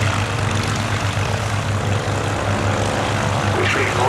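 Fokker S-11 Instructor trainer aircraft fly near Duxford airfield during a summer air show, their piston engines and propellers giving a steady, moderately loud droning hum at some distance, with no talk over it.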